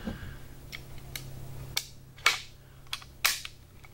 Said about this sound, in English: Push a little piece on the bottom before you push it back, and latch it down